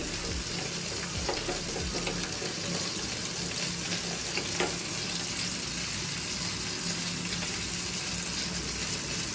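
Cumin powder is stirred into potol korma in a pan, with a steady sizzle and soft scraping strokes running throughout.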